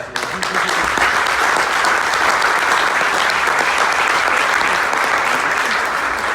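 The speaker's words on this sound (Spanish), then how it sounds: "una felicitación y un aplauso, el doble de fuerte" Loud, sustained applause from a large auditorium audience, a dense wash of clapping that holds steady for several seconds.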